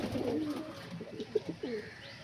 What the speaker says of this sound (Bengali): একটা কালপেটি পায়রা আছে এখানে। এই যে একটা নট ডাকছে।